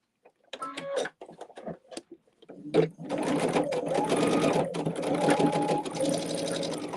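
A sewing machine stitches fabric in a steady, continuous whir after a few brief handling knocks, running close and loud to the end.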